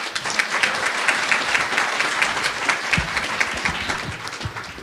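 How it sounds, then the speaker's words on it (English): Sustained applause from a conference audience after a wellness panel, a steady wash of many hands clapping at close range, with no voices over it. "can we give everyone another round of applause?"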